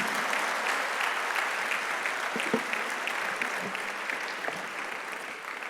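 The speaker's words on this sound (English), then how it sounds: "A big round of applause." An audience claps for a speaker at the close of a health and wealth talk, with sustained, fairly even applause filling the room and a few sharper individual claps standing out.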